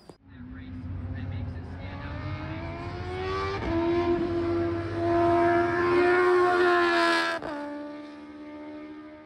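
A Lamborghini Bizzarrini V12 engine revs and holds a steady high note, climbing in pitch through several sustained pulls with a brief dip midway, loud and close throughout.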